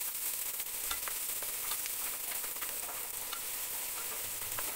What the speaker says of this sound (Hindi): और अब हम इसमें ऐड करेंगे चॉप अनियंस और इसे इसमें ऐड करने के बाद इसे हम एक अच्छा स्टर दे देंगे